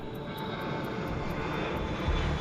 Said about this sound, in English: we're looking at an aircraft that was flying straight and level